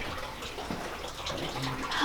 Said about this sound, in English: you have the water streams running right underneath the bridge